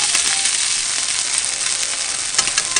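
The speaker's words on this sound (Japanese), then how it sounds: "蓋をして1分蒸し焼きにします。" Sliced pork belly and eggplant sizzle in a single frying pan for a packed lunch, a steady, close, crackling hiss with no voices over it.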